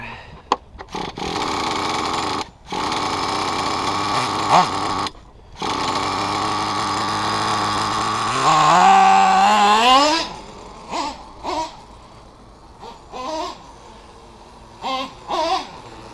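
A Traxxas T-Maxx 3.3 nitro engine running on O'Donnell 30% fuel, cold and at part throttle, screams in loud sustained bursts with short gaps, rises in pitch, then settles into a series of sharp throttle blips.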